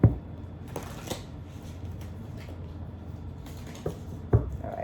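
Soft papery riffling of a card deck being shuffled, quiet and close, with a couple of sharper snaps near the start and end.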